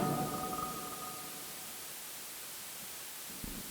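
Broadband radio static hiss from a tuned white-noise station in the video game Sally Face, steady and fairly loud throughout with a faint tone early on, heard alone without talk.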